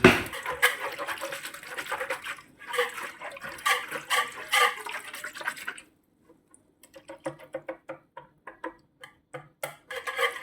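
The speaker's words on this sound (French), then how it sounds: "Ensuite, on prend le lait, hop. Voilà. On le verse." Milk pouring into a bowl in a home kitchen while making bugnes, a steady liquid splash for about six seconds, then silence followed by scattered light clinks and taps.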